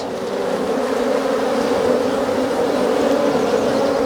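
Honeybees swarm around an open hive during an inspection, a dense, continuous buzzing drone that stays close and steady, with no voices.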